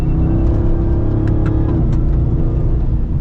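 Ram TRX pickup truck driving off-road in 4-wheel auto as the back end steps out, its engine a steady, loud, close rumble that holds without a break, with no voices over it.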